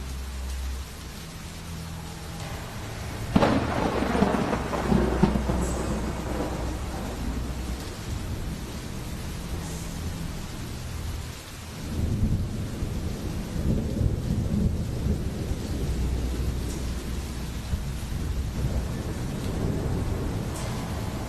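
A thunderstorm near Acatenango volcano in Guatemala, with rain hissing steadily and deep thunder rumbles swelling in, one loud roll building early and another rising near the middle before settling back into the rain.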